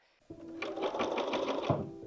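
A brand new sewing machine stitching fabric, with blue corduroy for a cushion, in a château: after a brief quiet start it runs as a steady, rapid, close whir of stitching for nearly two seconds.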